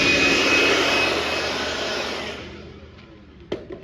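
Compressed air blowing dust off a freshly routed wooden shelf in a restaurant workshop, a loud steady hiss up close that tapers off, then a few light knocks.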